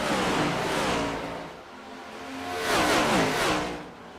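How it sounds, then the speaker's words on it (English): A V8 race car in a racing video game revs hard, its engine note sweeping up and down in two loud, continuous surges. "this car sounds so good."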